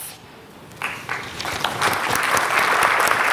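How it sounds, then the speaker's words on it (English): Applause at an awards ceremony starts with a few scattered claps and quickly builds into steady clapping from a crowd, growing louder toward the end. "Let's give him a big round of applause."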